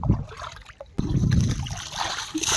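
Water of a small, icy-cold river moves with a close trickling and splashing wash that swells after a brief quieter moment and then runs steadily.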